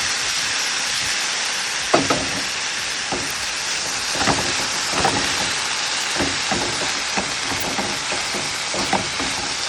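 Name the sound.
stirring cooked green moong dal in a pan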